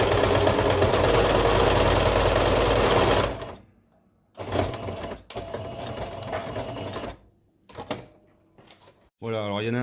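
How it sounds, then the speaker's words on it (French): A sewing machine runs a zigzag overcasting stitch along the edge of a fabric face mask, whirring loudly in a long burst and then in shorter runs with pauses, ending with a brief burst of speech. "là, on fait un zigzag de surfilage sur le bord"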